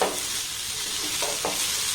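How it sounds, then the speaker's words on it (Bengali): A flour and potato snack stir-fried in a pan gives a soft continuous sizzle with a couple of brief scraping stirs near the end. "দেখুন একটু ভালোভাবে নাড়াচাড়া করে ভেজে নিয়েছি"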